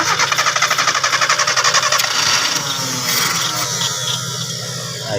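A car engine with a defective carburetor cranks in a quick rhythmic chugging for about two seconds, then settles into a rougher, uneven running drone that fades slightly toward the end.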